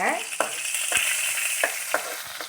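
Two dried red chillies fry in hot oil in a pan, a steady bright sizzle with a few sharp crackles and spoon knocks spaced through it, close and continuous with no voices.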